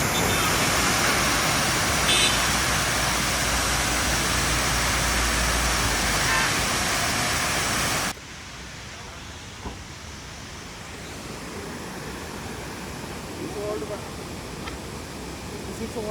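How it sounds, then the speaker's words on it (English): Steady roaring rush of a waterfall in Munnar, India: dense broadband hiss that is loud at first, then drops abruptly to a quieter, more distant wash for the remainder. "this was the first stop to see a spectacular waterfall"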